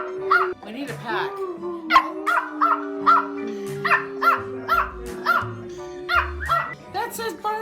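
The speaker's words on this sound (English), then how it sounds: "That's just barking." A dog barks repeatedly in quick, sharp yaps, fairly close, with a few whiny yips mixed in and a voice briefly in the background.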